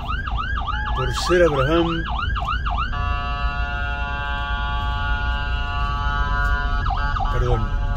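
An ambulance siren passes by outdoors, its wailing yelp cycling rapidly and then settling into long steady tones, loud over constant traffic rumble while someone speaks briefly.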